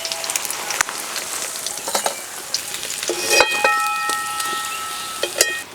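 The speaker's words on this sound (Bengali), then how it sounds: "মাছ লাল লাল করে ভেজে নিলাম।" Pieces of rohu fish fry in hot oil with a bright, steady sizzle and crackle, punctuated by a few sharp clinks and spatters, close up with no talking.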